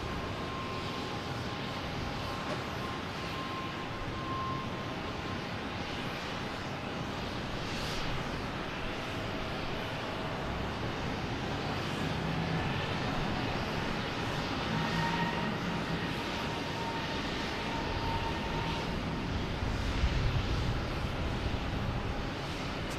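Air France airliner departing Boston Logan for Paris, a distant, steady jet roar that builds slowly and stays fairly faint throughout.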